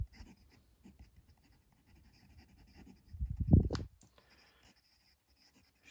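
A fountain pen with a medium steel nib, a Slayer L16, scratches lightly across paper in quiet, close strokes, with one brief louder rustle midway.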